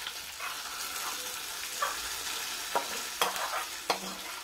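Golden-brown fried shallots in hot oil are poured into a jackfruit seed curry, giving a steady sizzle with several clinking stir and pan knocks, close and fairly quiet, no talk.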